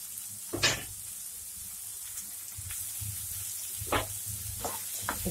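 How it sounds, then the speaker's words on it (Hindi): Spring onions and peas fry in a pan for a few minutes, giving a steady soft sizzle broken by several brief louder scrapes and stirs, with no voices. "मटर भी डाल देंगे। इसको 3-4 मिनट भूनेंगे।"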